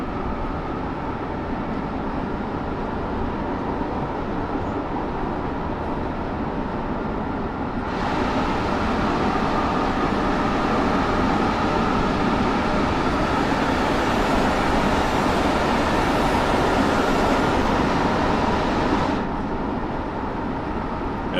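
A powerful train engine in Train Sim World 6 drones steadily under full power while climbing a 1.2% uphill grade, a continuous loud rumbling roar that swells and brightens midway before settling back.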